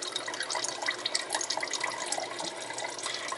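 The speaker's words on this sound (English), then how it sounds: "So, we drained out all the grease," Meatloaf grease drained into a measuring cup: a steady, fairly quiet trickle and patter of liquid lasting throughout, close by, with no talking.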